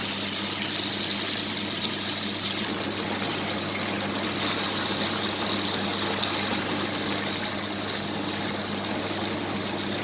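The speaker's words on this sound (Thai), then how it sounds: "แล้วก็เทซอสลงไปเลย" Ready-made pasta sauce poured into a pan, a steady wet trickling and gushing pour that runs on throughout, with a brief change partway through and no voices.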